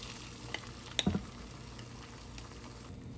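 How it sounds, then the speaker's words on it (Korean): Zucchini pancake batter fries in hot olive oil in a frying pan, giving a steady, soft sizzle with a few sharp pops clustered near the one-second mark. No voices are present. "프라이팬에 올리브유 넉넉히 넣고 기름이 충분히 뜨거워지면 반죽을 부어주세요."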